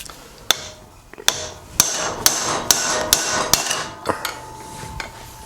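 A hammer repeatedly strikes a headset crown race being seated onto a bicycle fork, about a dozen sharp metallic smacks at an uneven pace, close and loud in a quiet workshop.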